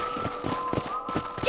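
Horse hooves in the video game Red Dead Redemption, a brief run of evenly spaced clip-clop steps at a trotting rhythm, with a voice calling out at the end.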